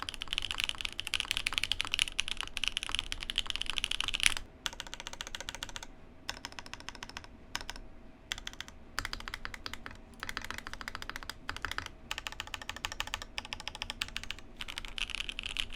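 Fast typing on an Instock Mode Envoy mechanical keyboard with Cream soda switches, a close, continuous clatter of crisp key clicks broken by brief pauses between bursts, with no voices.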